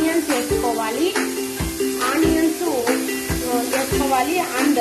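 Onions being stirred and fried in hot oil, with a steady sizzle and rhythmic scraping, clattering strokes of a spoon in the pan about every half second, close and loud.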